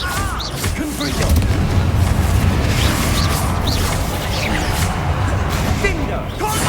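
Confringo spell blasts in the Hogwarts Legacy video game boom through a loud, continuous din of magical combat, with a voice talking over the noise.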